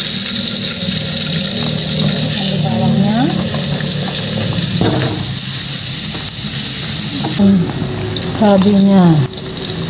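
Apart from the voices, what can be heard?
frying long bean pepper fried rice in a pan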